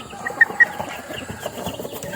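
A white Kelso gamefowl rooster gives a couple of short, soft clucks close by, then quiet rustling in a backyard.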